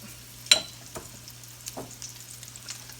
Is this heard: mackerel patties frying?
yes